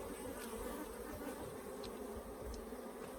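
Africanized hybrid honey bees drone steadily around an open hive in southern Arizona, a dense continuous hum with a few individual bees zipping close past the ear.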